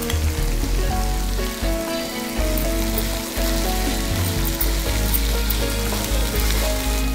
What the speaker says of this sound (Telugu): సో బెండకాయలు ఇప్పుడు బాగా ఫ్రై అయిపోవాలి